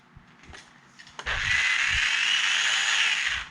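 A Carrera Go 1/43 slot car motor revs up into a loud, steady high whine with a whistling quality, after some faint clicks and handling noises, with no talking.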